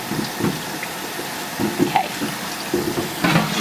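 Water runs from a tap while photosensitive emulsion is rinsed from a Yudu screen-printing screen, a steady splashing flow with irregular louder spurts and gurgles as the stream hits the screen, fairly close and loud.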